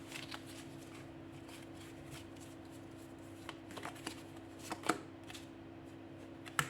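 Tarot cards are handled and laid down over others at a reading table, giving soft scattered slides and light taps with a sharper flick near the end, all faint over a steady low hum.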